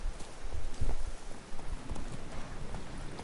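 Horse hooves clip-clop irregularly in The Witcher 3 game, a few soft, close thuds rising and falling over a faint rain-like background, with no talking.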